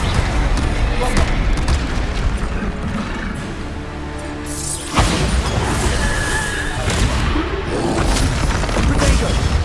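Bombarda blasting spell exploding in the video game Hogwarts Legacy, a loud crashing boom with shattering debris that cuts through steady, noisy fighting, while a voice shouts during the battle.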